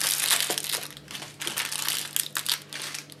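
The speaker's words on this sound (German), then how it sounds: "Und dann die Raffaello auspacken." Raffaello candies being unwrapped, their wrappers giving close, continuous crinkling and crackling in quick bursts with no voices.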